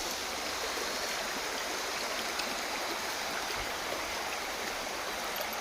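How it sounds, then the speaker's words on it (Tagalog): Shallow stream flowing through a scenic outdoor spot, a steady close rushing and babbling of water that fills the whole clip without pause. "meron ditong sapa na mababaw lang"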